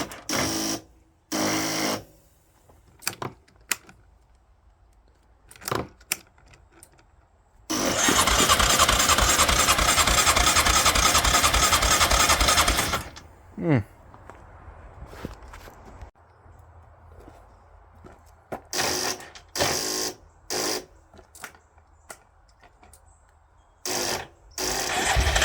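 A Yamaha Grizzly 600 ATV engine that is being coaxed with carburetor cleaner cranks for about five seconds in one loud, steady whirring stretch. Scattered clicks from a finicky key switch and handling come before and after it.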